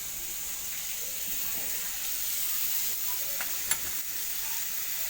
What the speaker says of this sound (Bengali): চিচিঙ্গা ভাজা বসিয়ে দিয়েছি কালো জিরে আর শুকনো লঙ্কা ফোড়ন দিয়ে